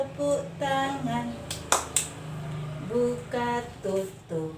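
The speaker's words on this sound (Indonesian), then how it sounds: "dan tepuk tangan." Children clap their hands a few times during an action song at a church Sunday school session, brief sharp claps heard under sustained singing voices.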